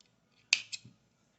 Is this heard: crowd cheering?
no